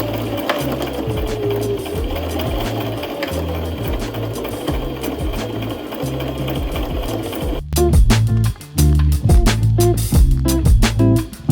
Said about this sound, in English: The first thing I'm gonna do is I'm gonna sew the zipper.